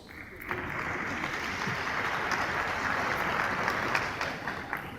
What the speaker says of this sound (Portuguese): recebe o carinho e os aplausos de todos